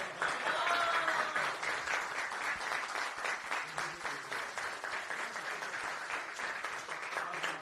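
An audience at a Democratic Party of Korea youth spokesperson appointment ceremony applauds steadily for several seconds. Many hands clap in a dense, even patter at moderate level, slightly stronger at the start.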